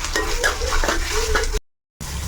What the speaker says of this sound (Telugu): ఉల్లిపాయలు కొంచెం వేగిన తర్వాత అల్లం పేస్ట్ వేస్తున్నా